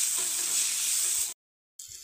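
Bubbling sizzle of a Khandeshi-style bajra vada vegetable curry being stirred in a hot pan, a steady close frying hiss that cuts out briefly and then returns.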